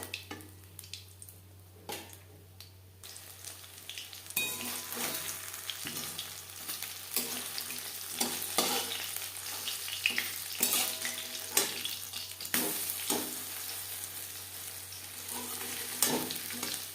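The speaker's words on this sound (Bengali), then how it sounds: "পরের মাছের চপ একইভাবে ভেজে নেব।" Fish chops deep-frying in hot oil make a steady, dense sizzle and bubbling crackle with occasional stirring clinks, close and continuous without speech.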